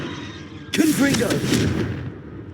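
A Confringo fire spell bursts in Hogwarts Legacy, a sharp blast followed by a crackling, roaring fiery rumble that fades over about a second, with a voice calling out over it.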